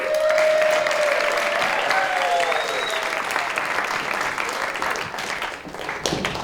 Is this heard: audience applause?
yes